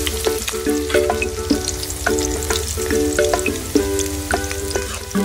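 Garlic, onion and ginger sauté in a pan, giving a steady, close sizzle with occasional stirring clinks throughout.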